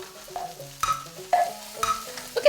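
Hors d'oeuvres sizzle and fry on an old electric stove that heats unevenly, with a steady low sizzle punctuated by several sharp stirring or utensil clinks at regular intervals.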